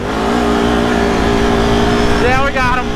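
Can-Am Renegade and Outlander ATVs racing side by side, engines droning loud and steady close by, then a rising rev sweep near the end as the machines pull away.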